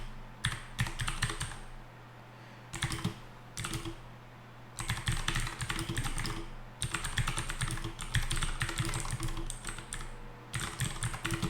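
Steady typing on a computer keyboard while entering paragraph text for a basic HTML page, key clicks coming in quick bursts separated by short pauses, close and clear with no talking.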